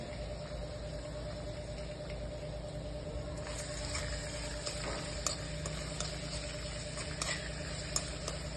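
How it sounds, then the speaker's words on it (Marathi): Crushed green chili and garlic sizzle gently in hot oil, a faint steady crackle over a low hum with scattered small pops growing more frequent toward the end. "तेल तापत आले त्यामध्ये आपण ठेचलेली मिरची आणि लसूण टाकू"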